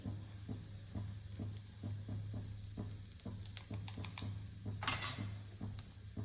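Cumin, mustard seeds and asafoetida sizzle in hot oil as a tempering for Punjabi kadhi, a quiet steady crackle broken by regular stirring clicks and a brief clink of utensil on pan.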